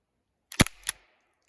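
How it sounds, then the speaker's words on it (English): A handheld self-defense launcher fires a powder round: two sharp cracks about a third of a second apart, close and loud, in a quiet setting with no voices. "I think that gave you a good view of how well it shoots and what it looks like when the powder explodes"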